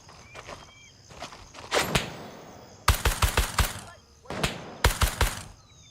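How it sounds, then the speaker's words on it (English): Gunshots in a tactical shooter game ring out in quick loud volleys, with short rapid bursts of three to five close shots separated by brief pauses and some quieter shuffling between them. "Shot my gun."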